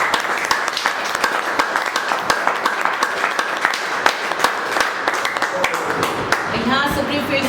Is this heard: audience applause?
yes